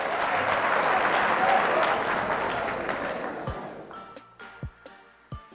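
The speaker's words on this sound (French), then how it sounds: "Merci de l'applaudir comme il se doit." An audience applauds at the 2017 final of the Génie en herbe quiz competition in Yamoussoukro. Dense, loud clapping fills the first few seconds, then thins into scattered, fading claps.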